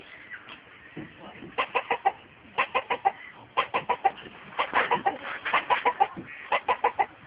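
Chickens near a river bank give repeated clusters of clucks in bursts of three or four, fairly close and moderately loud, over faint outdoor background noise.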